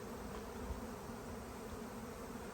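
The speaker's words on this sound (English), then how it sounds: "This is a honeybee swarm." Honey bee swarm buzzing outdoors, a faint, continuous, even hum of many insects with no pauses or voices.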